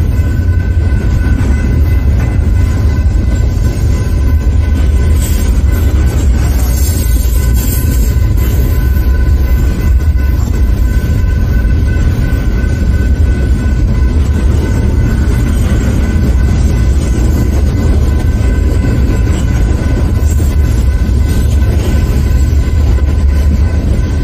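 A Union Pacific coal train locomotive rolls past close by, a loud, steady low rumble with continuous wheel and rail noise and a faint high-pitched tone running throughout.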